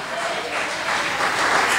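A church congregation applauds in praise during a worship service, a steady wash of clapping that holds and swells slightly toward the end, with voices mixed in.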